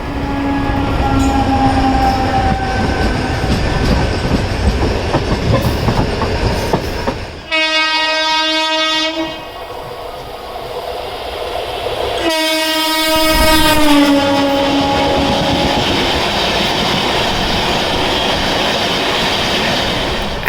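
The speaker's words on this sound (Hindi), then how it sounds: "हमारी ट्रेन का ओवरटेक होगा न्यू दिल्ली दरभंगा" The New Delhi–Darbhanga clone express overtakes on an Indian main line, loud and near, with a steady rumble of rolling wheels and clickety-clack. Two long, blaring train horn blasts sound partway through, and no one talks.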